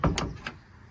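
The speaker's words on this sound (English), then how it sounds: "can't get the door open" An old truck door left sitting in the weeds and overgrown with vines gets yanked at while stuck: a few quiet, dull thunks and rattles in quick succession, then stillness.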